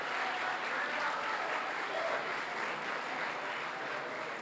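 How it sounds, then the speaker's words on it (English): An audience at a school sports awards event gives a round of applause for the baseball team, a dense, sustained wash of many hands clapping at an even level throughout. "Round of applause for the baseball team."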